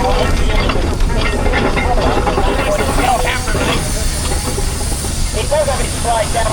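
A Wallace oil bath tractor engine at a rural steam show arena gives a steady, loud hiss with dense crackling and rattling throughout, under a busy outdoor background with faint voices.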